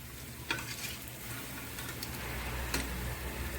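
Banana fritters fry in hot oil, giving a steady soft sizzle with a few faint clicks and scrapes of stirring, moderately quiet and with no voices.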